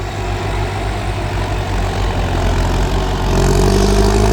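Tractor engine running steadily while pushing soil and rocks in a rice field, a loud close low rumble that rises slightly in intensity near the end, with no talk.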